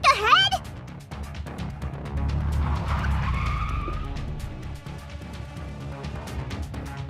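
A car skids in a video game, with a sharp tire squeal up front followed by a rising, loud engine roar and screeching slide that fades as music plays on.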